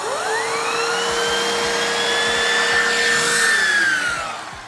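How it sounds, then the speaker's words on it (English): A Bissell Cleanview upright vacuum cleaner runs steadily while sucking up coffee grounds, its motor whine rising and holding for several seconds before dropping in pitch near the end, with small rattling clicks of grounds being picked up. "I'm ready to vacuum."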